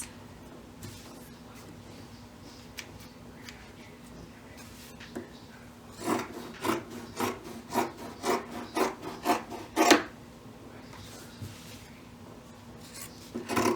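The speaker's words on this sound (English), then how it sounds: "because this is such a thick layer, we are going to trim down around our edges" Scissors trim the edges of a thick batting layer on a sewn book sleeve, making soft cutting and rubbing sounds. A quiet stretch comes first, then a quick run of about a dozen crisp snips, close up.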